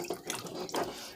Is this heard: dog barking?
no